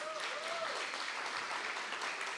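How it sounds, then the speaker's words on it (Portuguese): Church congregation applauding after a call to clap for Jesus, a dense, steady wash of many hands filling the space, with a brief sustained tone early and a faint voice beneath. "você pode aplaudir ao Senhor Jesus"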